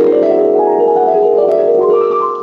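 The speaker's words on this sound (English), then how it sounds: "It's a combination of a whole tone scale chord" A sustained whole-tone scale chord rings out in a mystical, Debussy-like voicing. Layered tones shift slightly as the chord holds steady and full, then fade at the end. No voices are heard.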